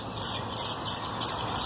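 Spray paint hisses out of an aerosol can in five short, evenly spaced bursts while a car is being painted, each blast a sharp, close hiss separated by brief pauses.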